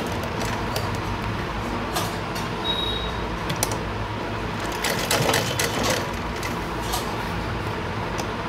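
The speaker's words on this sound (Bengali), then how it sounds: "সেলাই হয়ে গেছে, দেখো" A sewing machine whirs steadily and close for the whole stretch with no pause, set against a busy background with faint clicks and room noise.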